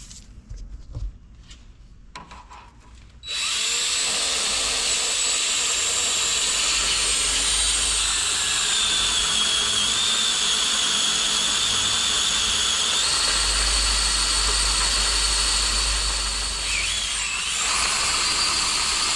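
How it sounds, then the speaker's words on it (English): A power drill runs continuously, close and loud, boring holes for engine mounts on a Detroit 2-53 engine swap, a steady high whine with a brief dip near the end after a few short clicks at the start. "so it's time to drill those holes."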